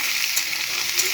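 Potatoes and green chilli sizzle in a hot pan, a brief, even hiss of frying heard up close with no voices.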